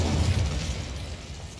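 The Incendio fire spell cast in Hogwarts Legacy, a short burst with a low whoosh that quickly fades out, with no talking.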